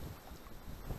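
Wind buffets the microphone while fishing from a boat on an oxbow lake of the Pripyat river, faint and gusty in uneven low rumbles, with no voices.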